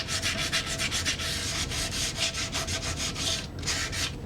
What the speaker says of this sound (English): the trick is right now is sand and grind as many of them away as possible